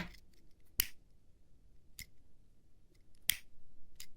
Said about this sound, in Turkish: Birazcık yürüttüğümüz için başlangıç ipimizi birazcık kısa kesiyorum.